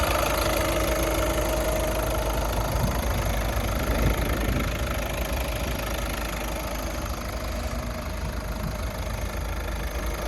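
A Skoda car engine idles steadily at close range, a constant low rumble with a faint rattle and no voices.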